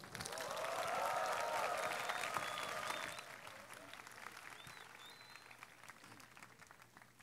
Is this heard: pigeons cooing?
no